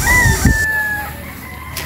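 On a fighting-cock farm in Unisan, Quezon, a rooster gives a drawn-out crow that holds a steady pitch for about a second, heard close over a busy background hum and rustle.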